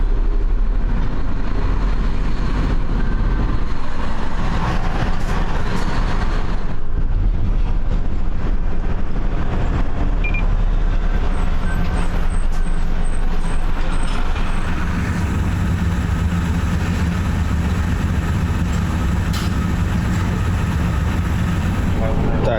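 A container truck in Japan pulls out of a cargo terminal after an exit check, with a loud, steady diesel rumble and road noise that stay continuous throughout while someone talks over it.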